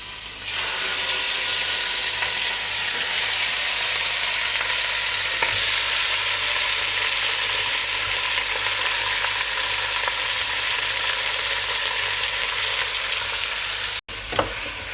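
About a kilo of bone-in lamb pieces fries in a pot, giving a loud, dense and unbroken sizzling roar that holds for the whole stretch before a brief cut near the end.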